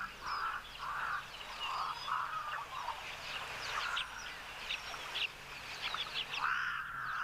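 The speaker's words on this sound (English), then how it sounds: "it's really almost like a performance of the crows right now." Crows call outdoors in nature, repeated harsh caws overlapping from several birds at a moderate distance, a busy chorus with no talk.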